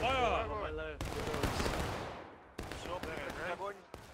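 A volley of musket fire in the Civil War video game War of Rights, sharp gunshot cracks and rolling reports echoing over shouted voices in the midst of battle.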